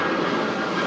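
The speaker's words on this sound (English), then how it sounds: "let's this plane go by." An airplane flies overhead, a steady broadband engine roar that stays loud and close for the whole short stretch, with no speech over it.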